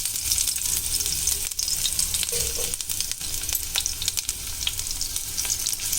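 Crushed garlic sizzles and crackles in hot oil in a kadai, a steady close frying hiss with scattered pops and light stirring scrapes throughout.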